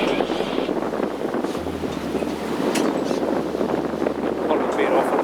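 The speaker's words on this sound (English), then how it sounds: "Still got about 17 knots of wind." Steady wind roars across the microphone aboard a sailboat at sea in about 17 knots of breeze, making a continuous loud broadband rush with a low hum beneath, unbroken for the whole stretch.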